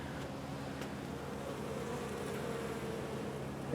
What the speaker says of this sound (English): I had a mass of bees basically swarming around my tailgate.